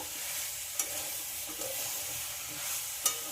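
Elephant foot yam and potato fry with spices in a pan, giving a soft, even sizzle with a few sharp clinks of a spatula scraping through.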